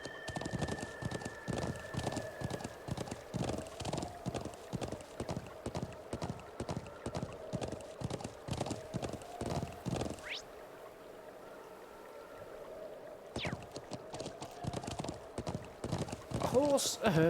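Horse hooves clip-clop in a steady, even rhythm as a mount is ridden in a video game, with a brief whinny and a quieter pause midway before the trotting resumes.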